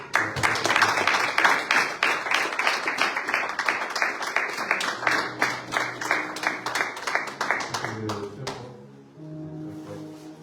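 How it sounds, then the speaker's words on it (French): A church congregation at a thanksgiving service applauds in dense, continuous clapping that goes on for about eight seconds, then fades into softer room sound and faint voices. "Est-ce que je peux encore applaudir?"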